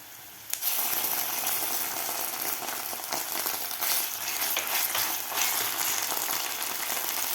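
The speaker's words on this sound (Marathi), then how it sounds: "आला आणि कांदा आपल्याला व्यवस्थित परतून घ्यायचा" Onion and ginger-garlic paste fry in a pan, opening with a sharp clink as the paste drops in, then a continuous close sizzle with occasional stirring scrapes and no talk.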